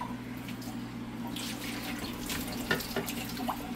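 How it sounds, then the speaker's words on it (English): Tap water runs steadily into a kitchen sink while chickpeas are rinsed, a continuous close splashing wash with brighter drips and spatters toward the end, and no talk over it. "I'm going to just give this a good little rinse off"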